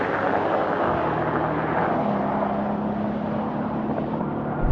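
An older Mercedes-AMG G63 drives fast on a motorway, with loud, constant road and wind roar inside the cabin and a steady engine hum underneath.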